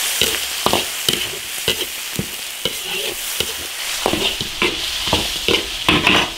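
Dried chilies stir-fried in red chili oil and hot chili paste in a cast-iron wok: an even oily sizzle under a quick, regular run of spatula scrapes and taps on the iron, close and fairly loud.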